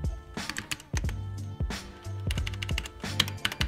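Fast typing on a compact wireless mechanical keyboard with tightly spaced keys, a close, crisp clatter of individual keystrokes in quick irregular bursts with brief pauses between runs.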